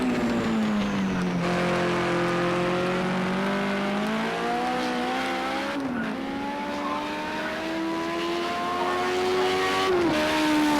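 A BMW Group 5 race car in Project Cars 2 drones steadily at high revs down the straight, its engine note rising through gears with brief dips at each shift, heard alone and fairly close.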